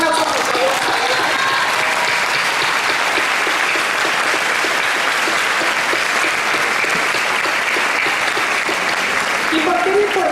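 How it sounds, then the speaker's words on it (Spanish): An audience at a workshop on political gender violence applauds steadily for over ten seconds, a dense even roar of clapping with voices faintly mixed in beneath. "Un aplauso, por favor."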